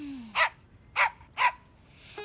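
Cartoon dog barking, three sharp, loud barks evenly spaced about half a second apart, standing alone in a quiet animated scene.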